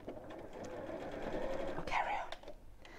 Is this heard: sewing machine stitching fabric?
yes